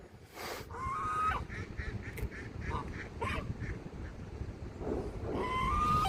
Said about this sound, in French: Ouh là là, tout ce paquet de canards.